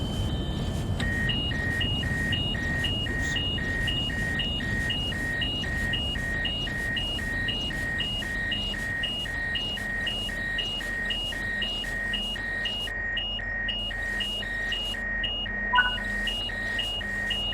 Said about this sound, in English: I've tripped the emergency alarm, so to reset this, you want to just put it back into max brake